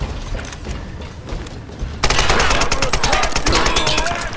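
Rapid bursts of automatic gunfire from a firefight in the Tomb Raider video game, loud and dense after a quieter opening with scattered shots, ending in a sustained volley.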